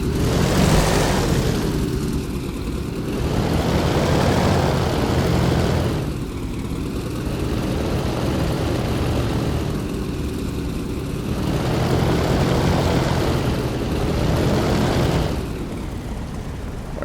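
A propeller plane taxiing in the DCS flight simulator game, a steady droning engine and prop whir that swells and fades in slow waves as it rolls along, with no voices.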